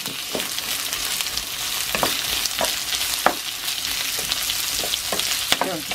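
Onions frying in a pan with a steady, close sizzle and occasional sharp stirring scrapes spaced through the sound, no voices.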